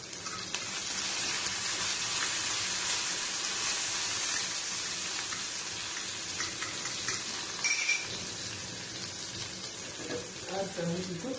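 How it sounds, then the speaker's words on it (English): Beaten egg sizzles and fries in hot cooking oil, a loud, steady crackling hiss that runs throughout, with faint stirring and a few clinks near the end. "Add some little cooking fat, oil. In goes the egg."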